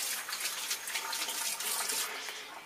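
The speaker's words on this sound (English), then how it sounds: "I'm going to wash my hands again" Tap water running steadily into a sink while hands are washed during a home cooking session for Hawaiian-style kalua pork, a close, even hiss and splash with no talk.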